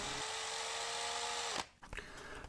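Power drill running in reverse with a screw extractor bit, a steady high motor whine that winds down and stops, followed by a brief quieter rattling moment.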